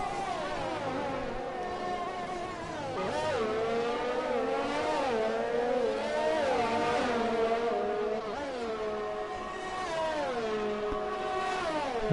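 A Williams Formula 1 car races around the Abu Dhabi circuit in an F1 video game. Its high engine whine climbs and drops through repeated gear shifts and sustained acceleration, loud and continuous with no talk.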